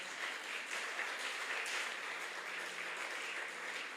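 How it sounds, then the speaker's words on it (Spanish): A church congregation applauds, a steady hiss of many hands clapping at moderate distance, fairly quiet and even throughout with no talk over it. "Dale un fuerte aplauso al Señor."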